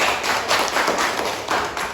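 Audience applause following a group presentation at a teaching performance exam, a dense, steady patter of many hands clapping close by for about two seconds.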